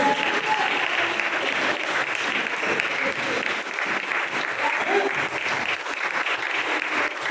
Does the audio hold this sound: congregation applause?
yes